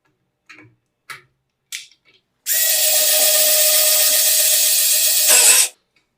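Ingco cordless screwdriver driving a self-drilling screw with a long bit: a few short taps first, then a steady, loud whirring motor run of about three seconds that ends abruptly.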